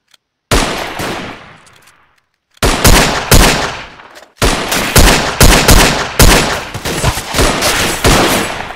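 Loud, close bursts of machine gun fire from the World War I shooter Verdun, several sharp volleys of rapid shots separated by brief pauses, with no talking.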